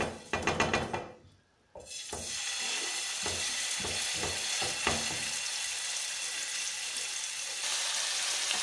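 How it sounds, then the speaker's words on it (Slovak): Hamburger patties laid into a hot oiled pan give a loud, steady sizzle that starts after a brief quieter dip and then holds at a constant crackling level, with faint clicks of handling at the start. "Na rozohriatú panvicu pokladáme hamburgery."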